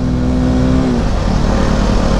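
A motorcycle engine on a ride gives a loud, steady roar, with a tone that holds and then drops as the revs fall, over wind and road noise and with no talk.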